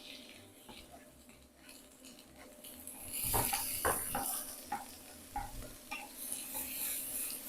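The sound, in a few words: onion, ginger and chili sizzling in a pan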